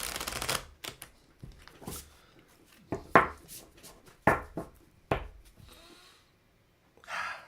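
A deck of cards is shuffled up close in a series of crisp, riffling bursts separated by short pauses, with no one talking over it.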